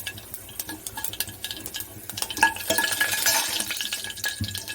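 Seeds stirred with a ladle in a hot pan while making South Indian sambhar, giving a steady scraping, clinking clatter with frequent light crackles and small pops.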